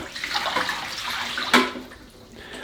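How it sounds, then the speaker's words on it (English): Water splashes and gushes as it is poured out of the inner container of an Aurora Aqua Optima water tank in a steady stream, with a sharp slosh midway before the flow trails off. "and emptying the water away."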